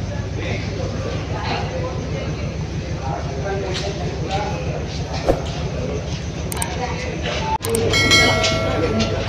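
Low rumbling rhythmic clatter of the Mumbai–Kolhapur Mahalaxmi Express rolling along the tracks at a railway station, with a sudden louder screech and rattle near the end.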